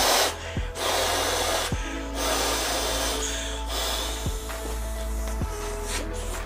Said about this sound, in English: you just blow into this valve here